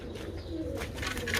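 Pigeons kept in a loft, soft low cooing close by, with a faint flutter and rustle over a short moment and no talk.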